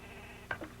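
A single sheep bleats once, short and fairly faint, over a quiet outdoor background hum, with no one talking.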